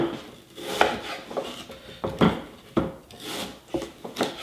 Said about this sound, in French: je vais couper mes pommes en 4